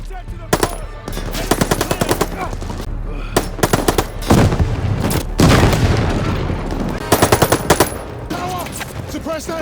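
Machine gun fire in a Call of Duty: Vanguard cinematic battle scene, loud rapid bursts repeating across the clip with booming impacts and shouted voices in the chaos.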